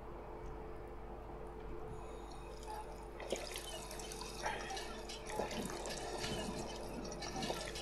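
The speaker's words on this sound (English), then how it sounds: "The water is just here." Running water in Fallout 4: faint dripping and trickling at first, then a fuller splashing flow starts midway and continues with small irregular spatters.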